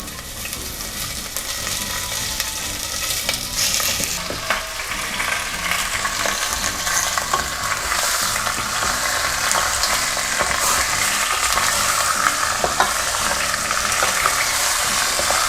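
Steady, loud sizzling and crackling of pork belly stir-frying skin-side down in a hot wok, with occasional stirring scrapes throughout and no talking.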